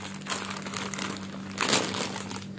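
A plastic package bag rustles and crinkles as it is handled up close, with a louder crunching scrunch near the end. No talk is heard.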